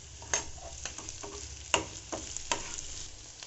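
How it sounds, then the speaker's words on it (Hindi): Garlic, capsicum and carrot fry in a pan, giving a soft, steady sizzle with a few scattered scraping clicks of stirring, close but fairly quiet. "अब मैं इनको 10 से 15 मिनट धीमी आंच में भूनने दूंगी"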